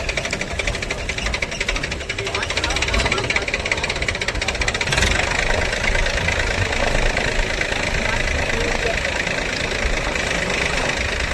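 A tractor stuck in sand idles loudly and steadily for the whole stretch, its close, rattling engine drone rising slightly partway through and never pausing.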